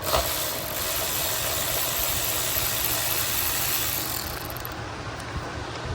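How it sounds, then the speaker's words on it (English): Electric fan running steadily in a hot garage, a continuous broadband whirr with low mechanical rumble that holds at even loudness throughout, dropping slightly near the end. "I got this fan going on the back."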